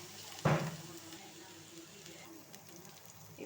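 Ginger garlic paste sautés in a hot pan with one sharp burst of sizzling, then settles into a quiet, steady hiss.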